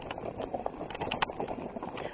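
Horses walk along a mountain trail in eastern Idaho, hooves clip-clopping in an uneven, fairly quiet rhythm of close, distinct steps, with no talk.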